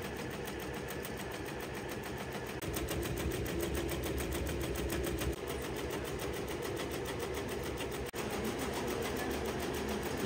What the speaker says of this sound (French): la brodeuse qui nous a même fait une petite démonstration sur une pièce qu'ils sont en train de fabriquer pour montrer comment fonctionne la machine